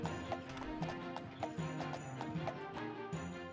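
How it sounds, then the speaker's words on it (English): Hoofbeats of a horse in the game Daggerfall Unity thud in a quick, even rhythm against a sustained musical backdrop, moderately quiet. "I'm on a horsey now"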